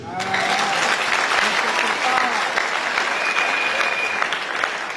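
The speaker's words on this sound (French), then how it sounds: "Est-ce que vous pouvez applaudir le Seigneur?" A church congregation claps steadily and densely throughout, a sustained wash of applause with a few voices faintly audible underneath.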